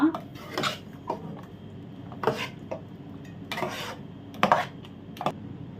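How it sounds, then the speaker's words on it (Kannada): A spoon stirs fried onion paste into biryani in a pot, with scattered metallic scrapes and clinks against the vessel in irregular bursts at close range and moderate volume. "ಈಗ ನಾವು ಆನಿಯನ್ ಎಲ್ಲ ಫ್ರೈ ಮಾಡಿಟ್ಟಿದ್ದೇವಲ್ಲ ಆ ಪೇಸ್ಟನ್ನು ಹಾಕಿಬಿಡುವ ಇದಕ್ಕೇ ಈಗ ಚೆನ್ನಾಗಿ ಒಂದು ಮಿಕ್ಸ್ ಕೊಡುವ"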